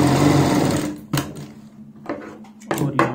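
A sewing machine runs a fast continuous stitch along buckram on a sleeve for about a second, then goes quiet, with a few shorter bursts of stitching and clicks following.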